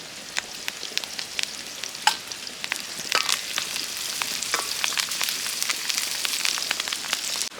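Curry leaves crackle and spatter in hot oil for a Telangana-style village chicken curry, a dense, steady sizzle with sharp pops throughout, close and fairly loud with no voices.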